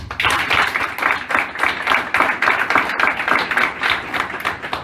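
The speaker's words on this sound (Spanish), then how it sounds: "para quien pido un gran aplauso" Applause rings out during a mock commercial court hearing: a group claps in a clearly pulsing, rhythmic pattern of distinct beats, fairly close and loud, with no one speaking over it.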